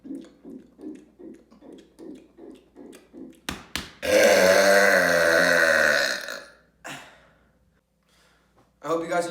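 After soda drinking, a run of short rhythmic gulps or breaths leads into a long, loud, drawn-out burp lasting about two seconds, followed by a brief exhale and another burp starting at the end.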